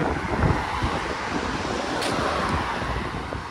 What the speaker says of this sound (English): Still windy here.